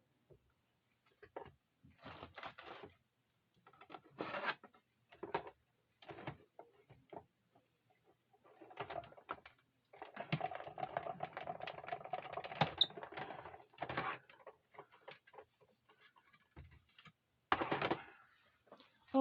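A tabletop embossing machine presses a card through an embossing folder with a run of rattling, clattering mechanical bursts. Short grinding pulses and pauses give way to a longer sustained stretch, heard fairly close and alone.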